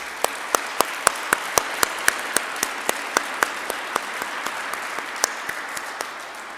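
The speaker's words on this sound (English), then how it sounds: "let's just do one more round of applause as a thank you for everyone who I've neglected to mention" An audience at a ribbon cutting ceremony applauds over a dense wash of clapping, with a few loud, close, evenly spaced claps standing out sharply on top.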